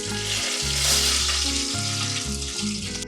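Curry leaves hit hot oil in a pan with a loud, bright crackling sizzle that holds steadily for a few seconds, close and alone.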